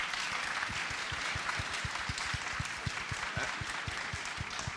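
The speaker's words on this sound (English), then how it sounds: "Can you show a round of thanks with your applause?" An audience at a debate-style panel event applauds the panel members, a busy steady patter of many hands with some sharper nearby claps standing out along its length.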